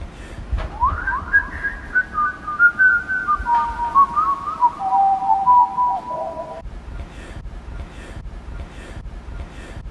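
Someone whistles a short jingle melody, clear and close, the notes stepping gradually downward over several seconds before stopping, with faint background noise afterward and no talking.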